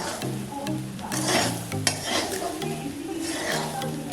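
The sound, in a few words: frying and stirring suji in a pan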